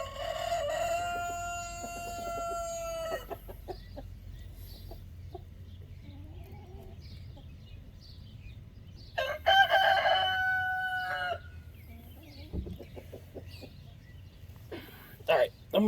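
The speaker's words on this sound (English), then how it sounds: "I'm gonna go run the neighbor's chicken off," A neighbor's rooster crows loudly in two long calls with chicken clucks scattered between, close by in a quiet yard.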